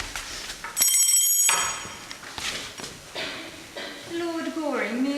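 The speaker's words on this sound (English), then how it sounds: "Lord Goring merely rang that you should show me out" A bright ringing bell in a radio drama of Oscar Wilde's An Ideal Husband, rung once to summon a servant, a clear sustained ring about a second long amid the actors' dialogue.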